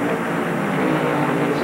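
Stock cars at the 1993 Champion Spark Plug 500 roar around the track in a steady, dense engine drone, loud and unbroken through a brief stretch.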